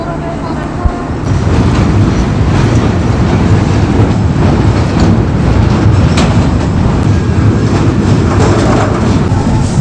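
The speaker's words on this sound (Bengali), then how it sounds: "সামনে একটি ছোট্ট রেলওয়ে ব্রিজের কাজ চলছে, জন্য স্লো হয়ে গিয়েছে, থেমে গিয়েছে ট্রেনটি।" A Rupsha passenger train on a route in Natore district, Bangladesh, eases along the rails and slows near bridge works. A steady loud rumble with faint rhythmic clatter carries throughout, heard from inside the carriage.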